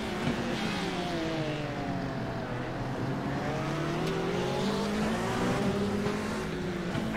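Race car engine in a racing video game, heard from on board during a lap at a Long Beach-style street circuit: a continuous, loud revving drone with rising and falling pitch as gears change, steady throughout with no talk.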